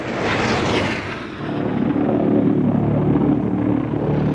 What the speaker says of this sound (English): It was really infamous because it was a pulse engine.